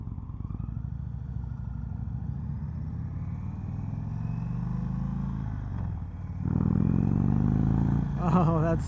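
An Indian Springfield Dark Horse cruiser engine rumbles at close range while riding, holding a steady low drone before revving up louder and deeper toward the end, with a voice briefly heard over it.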